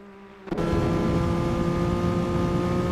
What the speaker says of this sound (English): I love listening to the roar of these engines.